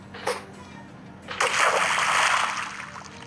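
In the Minecraft video game, a fishing line splashes into water: a short splash, then a longer sloshing splash close by, with faint background noise.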